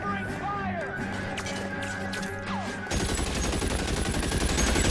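Gunfire from the video game LA Noire, with a dense burst of rapid shots building in the second half over busy game sound, loud and close, while people talk earlier.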